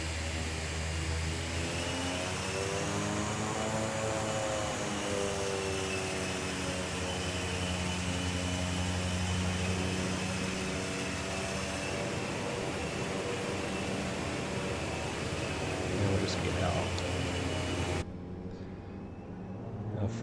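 Simulated ATR 72 turboprop engines drone steadily at high power in a flight simulator game, a dense continuous whine and roar that holds level throughout before cutting abruptly near the end.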